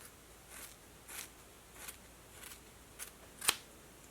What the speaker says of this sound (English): we'll give it just a little snip in the back to make it more the length of Riley's hair